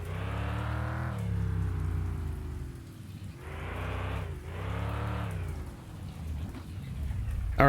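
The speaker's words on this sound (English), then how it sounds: "I can't actually remember the last time it rained in this game" Steady rain pours in the Mon Bazou video game, a dense hiss that lasts throughout. A low engine rumble swells and fades beneath it.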